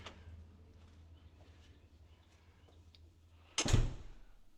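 A front door with textured glass, styled like a speakeasy door in a brand-new luxury home, opens with one short, fairly close burst of sound after several seconds of quiet room tone.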